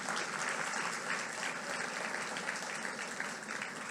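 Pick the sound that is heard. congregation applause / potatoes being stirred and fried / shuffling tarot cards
congregation applause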